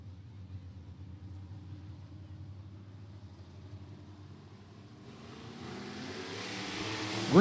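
Sport Mod race cars in a heat race at Beckley Motor Speedway, a low engine rumble that swells into a loud, broad roar over the last few seconds as the pack accelerates nearer, with no talking.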